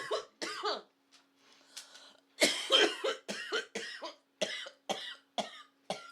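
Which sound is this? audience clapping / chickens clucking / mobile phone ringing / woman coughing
woman coughing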